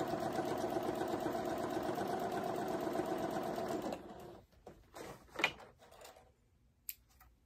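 A sewing machine runs steadily while top stitching a duffle bag with a 1/8 inch stitch along the very edge. It hums evenly for a few seconds and then stops, followed by faint handling clicks.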